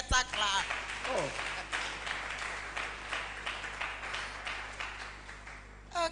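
Conference audience applause for a professor emeritus, a moderate spread of hand clapping in a hall, rising and falling in waves, with a voice briefly speaking at the start and end.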